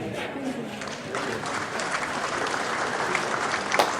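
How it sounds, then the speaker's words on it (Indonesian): Steady applause from an audience at the inauguration of a government office building in Kupang, moderately loud continuous clapping at some distance, with faint voices underneath. "Mari kita tepuk tangan yang paling meriah."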